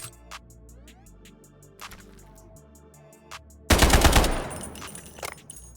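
Gunfire from a weapon loaded with M62 legendary ammo in the shooter game Delta Force. A few sharp, spaced shots and clicks come first, then a sudden loud, dense burst of rapid fire that fades away.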